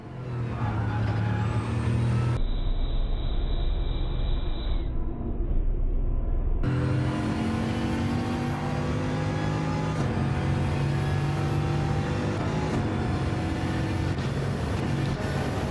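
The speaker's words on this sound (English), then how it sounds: "So I had to lift and then begin to accelerate." Racing car engine in a racing video game at Monza, held steady then building after a lift: a continuous droning tone with shifting pitch and abrupt cuts between views, loud and without talk.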